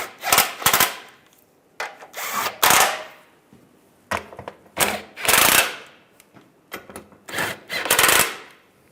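Hose fittings being tightened by hand on a 2007-2013 Chevrolet Silverado 1500 power steering return line, heard as a run of short, close scraping and rubbing bursts with brief gaps between them.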